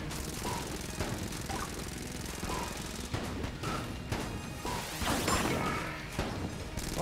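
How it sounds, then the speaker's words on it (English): Mahogany shots fired in the video game Enter the Gungeon: dense, rapid, clattering bursts of gunfire and impacts, continuous and fairly loud, with small whooshing projectile sounds over a busy game soundtrack. "Let's try and fire some mahogany shots into him."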